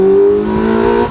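A Campagna T-Rex RR three-wheeler's high-revving motorcycle engine climbs steadily in pitch under acceleration, loud and close for about a second with no talk over it.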